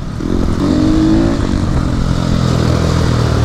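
A motorcycle on a muddy track engine-brakes through two downshifts, and the engine note drops and drones loud and close with some clatter, with no talking.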